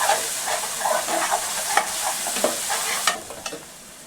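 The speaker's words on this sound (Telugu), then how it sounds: "ఈ అల్లం వెల్లుల్లి పేస్ట్ కూడా బాగా మగ్గాలండి నూనెలో" Ginger garlic paste frying and being stirred in hot oil for a shrimp and eggplant curry, a soft continuous sizzle broken by scraping spoon strokes, close and alone.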